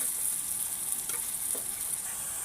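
An onion and coconut masala paste fries in a pan as it is stirred. A steady bright sizzle runs throughout, with a couple of soft scraping strokes from the spoon and no voices.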